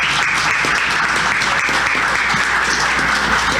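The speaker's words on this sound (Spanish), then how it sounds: "le vamos a brindar un fuerte aplauso." Sustained applause from the audience at a round-table event honoring extraordinary women, greeting a doctor on her birthday; dense, steady clapping fills the whole stretch, loud and close with no pauses.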